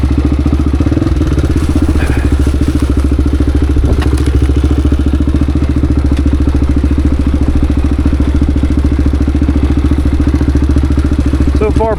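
A Honda XR dirt bike rides an off-road trail loop, its engine a loud, close, steady thrum with some clattering and thumps from the terrain throughout.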